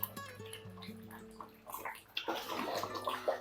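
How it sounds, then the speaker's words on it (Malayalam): Coconut oil is poured into a pan for cooking jackfruit varatti, giving a soft, steady liquid trickle with gentle gurgles that grows fuller and louder toward the end, with no voices. "വെളിച്ചെണ്ണ ഒഴിച്ചു കൊടുക്കുക."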